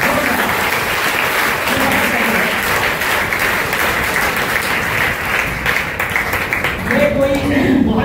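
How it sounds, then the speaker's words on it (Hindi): Loud, dense applause fills a hall at a school cyber security and women's safety awareness program, with a large audience clapping steadily and continuously throughout. "वालों के लिए जोरदार तालियां बजाएं।"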